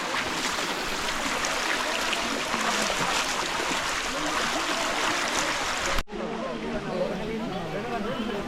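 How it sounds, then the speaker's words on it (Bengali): A small waterfall with very little water at Tiprakhum Jharna in Sitakunda, heard as a continuous broadband rush of flowing water, steady and fairly close, with a brief cut partway through. "এটা হচ্ছে ঝর্ণা, ঝর্ণাতে পানি একদমই কম।"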